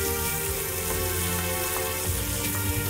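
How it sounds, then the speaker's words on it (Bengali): Shelled, deveined prawns with tails on fry in a saucepan while being stirred, producing a loud, steady sizzle close by with occasional scraping clinks, and no voices. "সসপ্যানে নাড়া হচ্ছে।"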